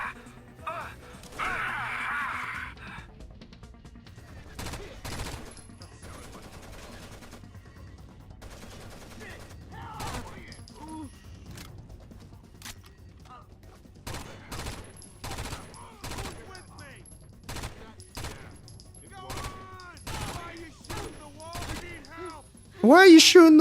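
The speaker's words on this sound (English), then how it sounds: "Who is shooting at me?" Gunfire in a video game shooter, sharp shots in scattered bursts and short volleys over many seconds, with a voice talking intermittently between them.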